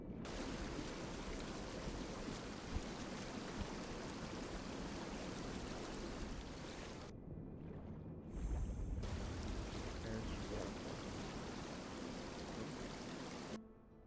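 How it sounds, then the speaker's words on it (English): Rushing waterfall in the video game Tainted Grail: The Fall of Avalon, a steady broadband roar of falling water that fills the scene, briefly dropping out partway before a louder surge returns. "So it's under this stupid ass waterfall."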